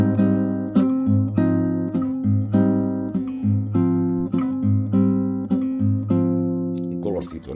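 A guitar plays a slow sequence of chords from the intro of a song, each strummed and allowed to ring for roughly a second, with a brighter strum at the end.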